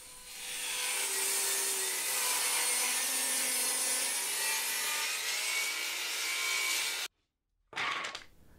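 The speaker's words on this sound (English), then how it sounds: "then taken over to the table saw and rip some strips" A table saw rips thin wooden strips about 18 mm thick, giving a loud, steady whining cut for around seven seconds before it stops abruptly, followed by a short burst of sound.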